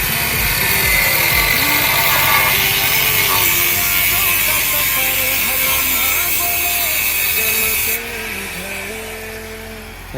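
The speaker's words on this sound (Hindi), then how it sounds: "तो गाइस इधर ग्राइंडिंग चल चुका है।" An angle grinder cuts through a motorcycle exhaust pipe, a loud, sustained high-pitched whine with shifting tones that drops in level near the end as the cut finishes.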